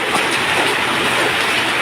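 Heavy rain pours down at a garden house beside a canal, a loud, dense, unbroken hiss with a steady patter beneath it and no voices.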